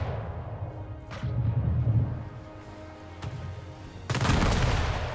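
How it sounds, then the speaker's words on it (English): Ship cannons fire in the naval battles of Anno 1800, a few booming shots spaced over several seconds with a heavier burst of blasts near the end, alone without talk. "So these two have cannons. Fire your cannon."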